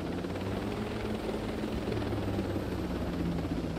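A helicopter in the video game Ghost Recon Breakpoint drones steadily at close range, its rotor and engine noise holding a constant level throughout with no talk.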